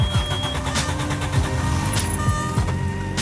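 A dead BMW E36 cranks over on a MicroStart XP20 jump starter in bypass mode, with a busy mechanical whir, repeated clicks and a steady motor rumble close by.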